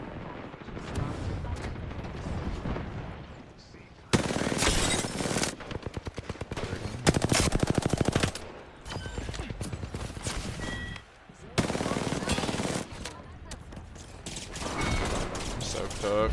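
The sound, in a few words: many enemies shooting at the player in a video game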